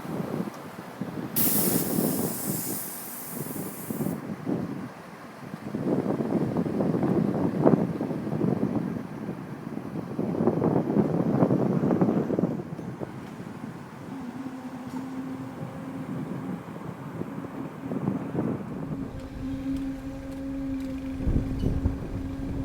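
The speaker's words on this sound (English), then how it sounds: "It is a really windy day, guys, so sorry if it's a bit hard to hear." Strong wind buffets the microphone in heavy, rumbling gusts beside a railway track near Newcastle, with a brief hissing burst early on and a faint steady hum later.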